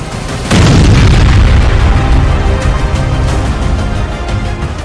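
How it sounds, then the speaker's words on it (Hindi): A massive explosion in Russia erupts with a sudden heavy boom, followed by a sustained, loud rumbling roar that barely fades. "ये धमाका रूस में हुआ है।"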